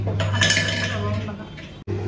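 A metal pressure cooker set down on a lit gas stove, a brief clatter and clink over the low steady hum of the burner, with a voice speaking.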